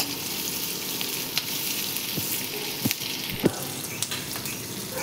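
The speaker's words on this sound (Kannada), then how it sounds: "ಜೀರಿಗೆ, ಇದನ್ನ ಚೆನ್ನಾಗಿ ಎಣ್ಣೆಯಲ್ಲಿ ಬಾಡಿಸ್ಕೋಬೇಕು." Cumin seeds fry in hot oil with a steady close sizzle, broken by a few sharp clicks from stirring.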